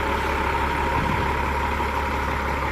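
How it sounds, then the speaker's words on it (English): A truck idles and rumbles at low speed, steady and moderately distant, as it maneuvers a trailer into a tight space around a tree; no voices break the continuous engine drone. "he's got to get that trailer to come around tighter"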